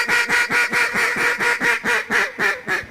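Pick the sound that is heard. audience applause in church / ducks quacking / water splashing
ducks quacking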